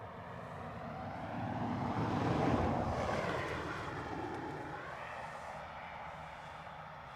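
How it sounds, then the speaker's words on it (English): Boeing 747 cargo jet passing overhead unseen near Dublin Airport in winter, a steady distant broadband roar that swells to a peak midway and slowly fades, with some wind noise on the microphone. "So I can actually hear that 747, just can't see it."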